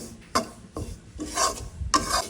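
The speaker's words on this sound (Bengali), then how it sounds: "এইভাবেই হচ্ছে বড়িটা ভেজে নেব একদম ব্রাউন কালার করে" Rice badi stirred and scraped in a wok as they fry toward brown, with rasping stirs and soft sizzling in bursts, close and moderately loud.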